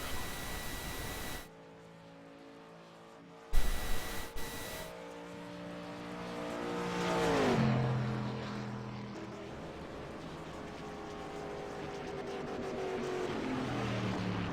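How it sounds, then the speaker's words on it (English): Race cars accelerate to catch the pace car during a caution period in a stock-car race, their engines a loud sustained roar with one car sweeping past close by midway, rising and falling in pitch. "These guys come around now, try to catch up to the pace car."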